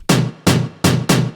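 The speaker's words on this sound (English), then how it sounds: "those are these hard hitting tom sounds, and they sound like this" Four hard-hitting Afro House tom hits, loud and punchy, each with a sharp attack and a short booming decay, spaced in an uneven syncopated rhythm with no other sound.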